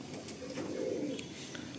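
Soft cooing of a baby pigeon, one of the Madrasi or Andhra breed, steady and close over 1.8 seconds, with a gentle swell in the middle and no talk.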